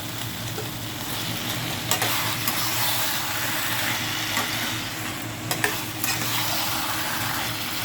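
Fish heads sizzle and fry steadily in a pan, with a continuous crackling hiss and a couple of brief stirring clatters, no talk.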